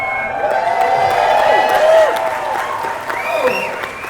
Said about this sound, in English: We know you're out there by how much noise you make and how much you clap.